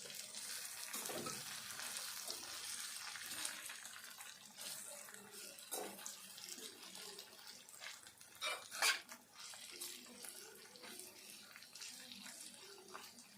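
Bitter gourd curry sizzling in oil in a pan while being stirred, with a continuous frying hiss and occasional scraping and clinking of the spoon against the pan.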